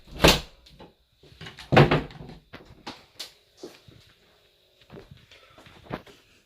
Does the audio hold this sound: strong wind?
no